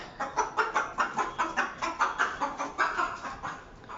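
Hens clucking close by in quick, regular bursts, about a dozen short rhythmic clucks in a row at a fairly loud level, with no talk over them.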